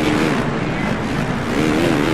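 Motocross bike engine roars continuously in MXGP racing gameplay, a loud buzzing drone with slight pitch wavering as the bike is jostled, close and steady throughout.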